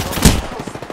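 Gunfire in Apex Legends: a single sharp, loud shot bursts out near the start, then decays into a short ringing tail over low background game noise.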